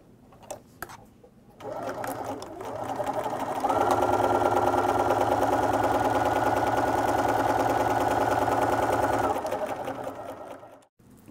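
Domestic sewing machine stitching through a quilted potholder sandwich, starting with a few short bursts of back-and-forth locking stitches, then running steadily for several seconds with a close, even whirring hum before slowing and stopping.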